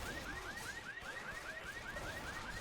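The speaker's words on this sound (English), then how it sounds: "they shoot another car alarm" A car alarm wails in the Left 4 Dead video game, a repeating rising siren cycle about every quarter second, steady and moderately loud over a rough background.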